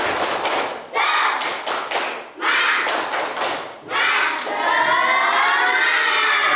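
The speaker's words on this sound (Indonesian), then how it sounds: "Ayo kita tepuk semangat dulu yuk" A class group performs the 'tepuk semangat' rhythmic clapping chant, with bursts of loud, close clapping alternating with chanted voices in a quick, patterned rhythm.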